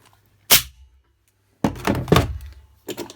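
A LIDL Parkside compressed-air maintenance unit with pressure regulator gives a sharp clunk as a fitting is detached, then a burst of rushing air and a second short puff, all close and loud.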